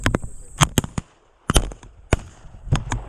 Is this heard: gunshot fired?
yes